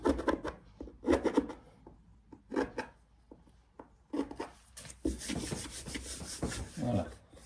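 Drilled screw holes on an inflatable boat are cleaned out with a series of short scraping, rubbing strokes, close and quiet, in uneven bursts with a longer scrubbing run near the end.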